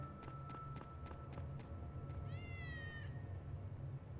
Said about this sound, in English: I see a cat.